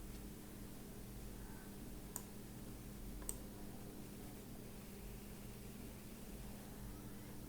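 A computer mouse clicks twice, softly and a second apart, over a constant faint hum of background noise.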